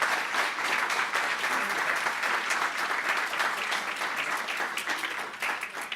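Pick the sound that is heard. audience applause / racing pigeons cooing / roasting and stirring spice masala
audience applause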